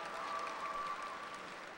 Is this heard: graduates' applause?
yes